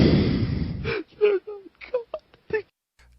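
Heavy, deep breathing pressed directly against a microphone in a played recording: a long rushing exhale, then a string of short, ragged gasps and moaning breaths broken by brief silences.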